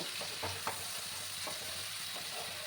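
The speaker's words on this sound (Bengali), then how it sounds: "পেঁয়াজগুলোকে এবার আমি ভালো করে কষিয়ে নেব" Onions are stir-fried in hot oil for a spicy Bengali boal fish curry, giving a steady, soft sizzle with a few light scraping stirs, close and fairly quiet.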